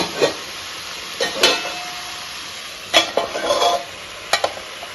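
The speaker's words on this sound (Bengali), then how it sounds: "সবজিগুলো ভালো করে ভাজা হতে হবে" Vegetables cook in a pan for a prawn dish while a utensil stirs them, giving several distinct scraping clatters over a faint, steady background hiss, close and without speech.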